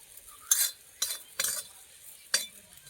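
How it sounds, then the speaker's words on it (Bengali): Neem leaves are stirred in a dry kadai as they roast, four distinct scraping strokes of a spatula against the metal, separated by short quiet gaps. "এই নিম পাতাটা এই শুকনো কড়াই একবার এরকম করে ভেজে নিলে কাঁচা গন্ধটা চলে যাবে"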